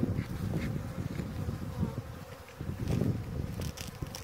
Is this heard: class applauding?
no